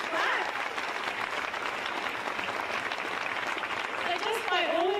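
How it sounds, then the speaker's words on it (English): Audience at a charity fundraising ball claps in sustained, dense applause that holds steady throughout, with a few faint voices and a brief whistle-like call near the end. "a big clap."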